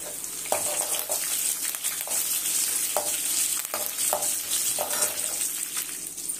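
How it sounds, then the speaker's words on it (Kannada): Green chillies and curry leaves fry on a low flame for lemon rice, a steady bright sizzle with periodic soft scraping stirs spaced about a second apart, no speech. "ಕಮ್ಮಿ ಉರಿನಲ್ಲಿ ಫ್ರೈ ಮಾಡ್ಕೋಬೇಕು, ಸೀದೋದ್ರೆ ಚೆನ್ನಾಗಿರಲ್ಲ. ಈಗ ಹಸಿಮೆಣಸಿನಕಾಯಿ ಮತ್ತೆ ಕರಿಬೇವಿನ ಸೊಪ್ಪು"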